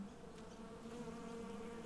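A bee buzzing in flight, a faint steady drone that hovers close by, with no voices.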